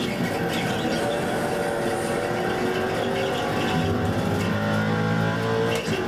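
Race cars, including a Mustang and a Miata, roaring together in an iRacing GT league event, with a steady dense engine drone and whine that holds loud and continuous as the cars run close and pass.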